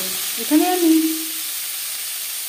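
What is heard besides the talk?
onion and tomato frying in oil in a wok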